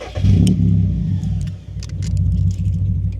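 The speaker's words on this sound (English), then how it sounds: "now it's time to see if it'll fire up and it'll stay running" A 1990 Mazda Miata engine catches and settles into a close, rough idle, with a brief rev near the start and a few light clicks over the steady rumble.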